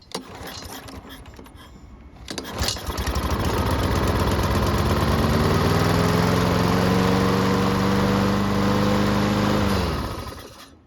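A lawn mower that had trouble starting, primed with fuel, fires up after a short pull and settles into a loud, steady running drone close by, then winds down near the end.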